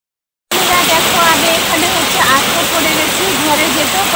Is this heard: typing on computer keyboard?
no